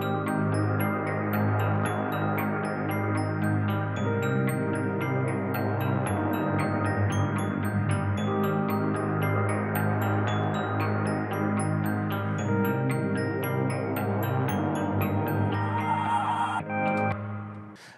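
A full future bass arrangement layers a sparkling glockenspiel over a reverb-soaked guitar riff and sustained synth bed, playing continuously and evenly for about seventeen seconds before cutting off.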